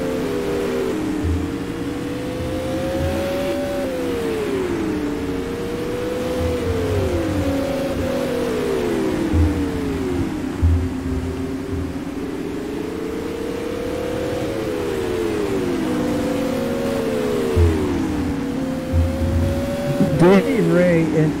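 Race cars lapping at Oswego Speedway during a supermodified event, engines rising and falling in repeated revving sweeps as they circle the track, steady and fairly loud throughout with no talk over them.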